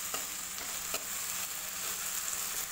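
Chopped onions sizzle steadily in a hot pan for masala kanda poha, a continuous crackling fry with a few sharper spatters and stirring scrapes, close and alone.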